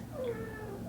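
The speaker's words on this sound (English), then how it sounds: "cat who just had a baby and she's talking to the baby" A mother cat that has just given birth meows softly to her newborn kitten indoors, a single drawn-out, faint vocalization in the background.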